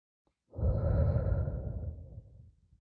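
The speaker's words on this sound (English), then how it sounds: "Breathe in and out." One slow, audible breath drawn in and let out close by, a soft airy rush that swells and fades over a couple of seconds in otherwise quiet surroundings.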